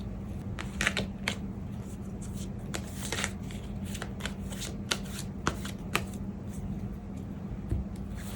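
Tarot cards shuffled by hand before an advice card is drawn, soft papery riffles and flicks coming in quick bursts, close and quiet, with no talk.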